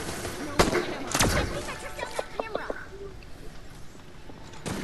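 Turret gunfire in the survival horror game Resident Evil Resistance: a few sharp, loud blasts followed by a run of shorter, lighter shots and clicks, fading into quiet.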